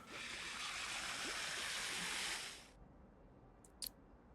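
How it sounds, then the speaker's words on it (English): Water running from a tap into a water bottle in the video game Project Zomboid, a steady rushing stream that stops abruptly, followed by a couple of faint clicks. "Let's fill up my water bottle real quick."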